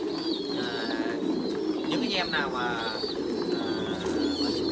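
Pigeons coo steadily on a breeding farm, a continuous low throaty cooing from many birds close by, with someone talking over it throughout.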